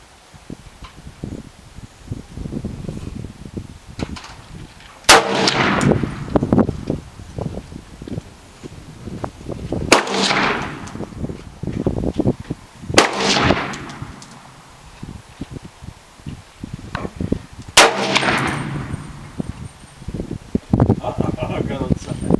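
Gunshots at an outdoor shooting range in Texas, four loud sharp reports spaced several seconds apart, with wind buffeting and rustling noise between them.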